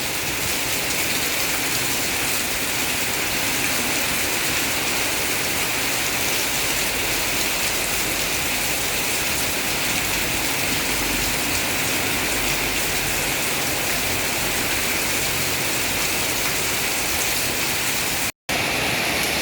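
Heavy rain pours in a thunderstorm with strong wind outside the front of a house, a loud, unbroken hissing roar that continues the whole way through, cut by one brief dropout near the end.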